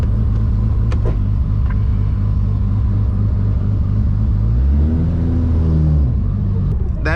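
A 1000+ horsepower Toyota Supra MK4 running on E85 drones with a loud, steady low engine rumble heard from inside the car, swelling into a rising rev near the end.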